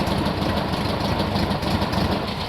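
A 1960 VW split window single cab's engine idles low and steady, a rough continuous rumble close by with no other sounds over it.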